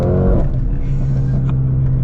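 Mercedes-AMG A35 engine and exhaust drone loudly from close by while driving, a steady low rumble with a brief rev at the start and no talk.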